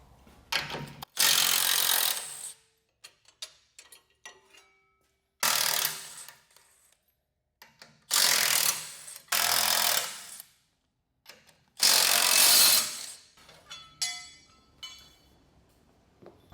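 An 18 mm socket tool takes the front bumper bolts off a 2023 or later Ford F-250/F-350 truck in several separate loud buzzing bursts, close by, with clicks and quiet gaps between them.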